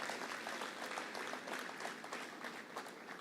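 Conference audience applauding at a health and vitality event, a steady dense wash of many hands clapping together, moderately distant and even throughout with no break.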